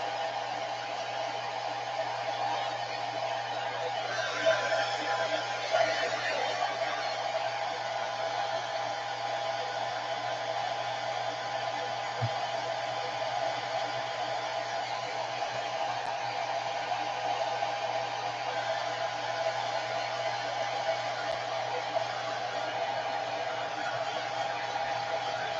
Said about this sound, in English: This is a blow dryer on a cool setting